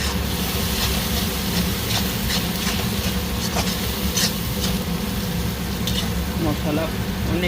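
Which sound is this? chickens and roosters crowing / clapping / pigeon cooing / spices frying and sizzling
spices frying and sizzling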